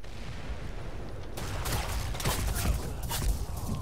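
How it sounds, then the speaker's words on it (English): Auto shotgun fire in a cooperative shooter video game, a dense run of loud rapid booming blasts that starts suddenly after a quieter stretch, with no speech over it. "That freaking auto shotgun, dude."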